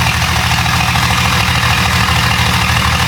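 A Jeep 5.0 stroker engine idles loudly and steadily up close, with a fast, even mechanical pecking from the cylinders running through the low rumble for the whole stretch.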